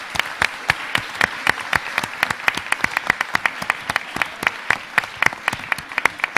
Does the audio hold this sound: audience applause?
yes